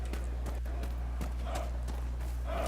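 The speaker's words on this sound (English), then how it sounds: "I'm gonna ride my horse through town." Horse hooves clip-clop at a steady walking rhythm in the video game Dragon Age Inquisition, a series of distinct thuds over a constant low game hum, with no talk during the footsteps.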